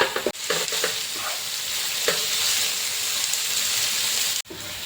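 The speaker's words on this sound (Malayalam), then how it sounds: "പച്ചമുളക്, കറിവേപ്പില എല്ലാം കൂടി നന്നായിട്ടൊന്ന് വഴറ്റിയെടുക്കാം." Onions, green chilli and curry leaves sauté in a hot pan for chicken curry, a steady sizzle stirred along with scraping strokes, with a couple of brief breaks in the frying.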